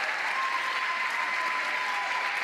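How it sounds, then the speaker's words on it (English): Crowd applauding at a professional pickleball match at the CIBC Atlanta Slam, a dense, steady burst of clapping sustained for a couple of seconds. "Crowd is riled up"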